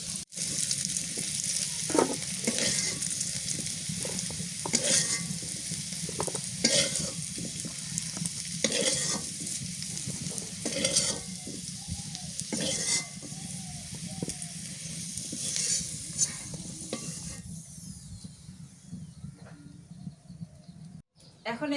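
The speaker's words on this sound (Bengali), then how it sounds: "এটা নতুন আলু তো এই জন্য আমি একটু হালকা করে ভেজে নিলাম" New potatoes fry lightly in a home kitchen pan, giving a steady close sizzle with repeated scraping stirs throughout, fading quieter near the end; a voice talks at times over the cooking.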